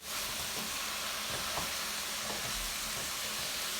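Tofu, pork and broccoli stir-frying in a pan, a steady loud sizzle of hot oil with occasional soft scrapes and stirring knocks, continuous and close with no talk.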